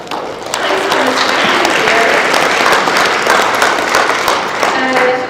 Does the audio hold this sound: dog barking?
no